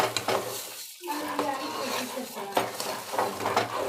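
Coconut rice ingredients stirred in a pan, a steady scraping and sizzling with light clinks of a spoon against the metal, continuing close up through most of the stretch after a brief pause.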